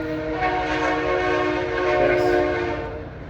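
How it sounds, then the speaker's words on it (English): A train rumbles past nearby while its horn sounds a long, steady, multi-toned blast over the rolling noise. "there's a train again"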